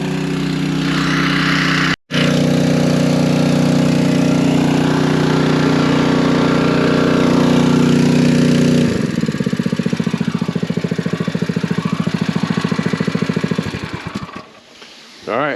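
A small engine fires up right after the ignition switch is turned on, running loud and steady at first, then settling into a rougher, pulsing idle before cutting out near the end.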